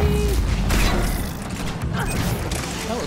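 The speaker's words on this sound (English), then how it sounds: "That was quite an explosion." A loud explosion in the Mass Effect 3 multiplayer video game: a dense, broadband roar with heavy low rumble, mixed with busy game effects across the whole three seconds, with faint voices in the background.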